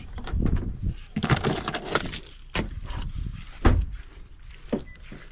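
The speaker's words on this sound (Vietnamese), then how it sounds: "Giờ em lấy chìa khóa xe đó, quên chìa khóa xe rồi." Car keys jangle and clink in short bursts, close by, mixed with a few soft handling knocks and thumps; no one speaks.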